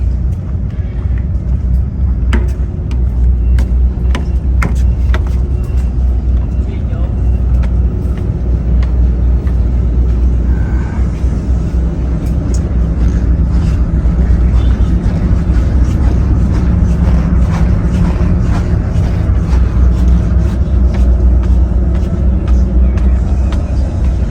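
A car on a long road trip in the Philippines, heard from inside as a steady low engine and road rumble that stays constant throughout, with no talk.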